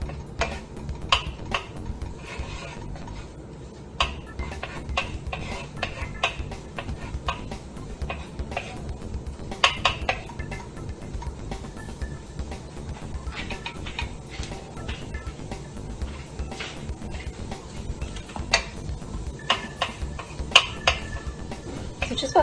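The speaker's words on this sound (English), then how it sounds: "we're going to toss the garlic for about a minute before we add in our onions" Garlic tossed in a pan while cooking fried rice, heard as a steady run of light clicks and taps of a utensil against the pan over a constant low background, with no talk.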